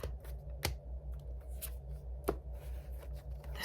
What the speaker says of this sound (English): shuffling the Witch's Tarot consistently in the background here